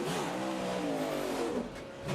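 A NASCAR Cup race car at Sonoma Raceway revs loudly and steadily up close as its engine catches, the pitch rising and falling before dipping briefly near the end.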